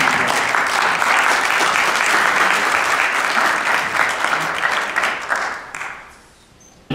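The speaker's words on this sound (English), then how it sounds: "let's give another round of applause" Loud, sustained applause from the crowd at a health care town hall in Alaska, many hands clapping densely for several seconds before fading out quickly near the end.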